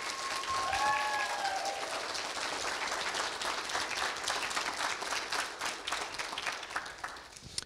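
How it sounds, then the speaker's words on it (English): Applause fills a commencement ceremony, a dense steady clatter of many hands at moderate distance that holds on and slowly thins out toward the end. "Let's give her a round of applause."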